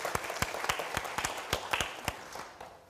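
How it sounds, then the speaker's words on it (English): An audience at a high-level round-table meeting gives a modest round of applause, a sparse scatter of distinct claps from a small group that thins out and fades. "I think we should give him a round of applause."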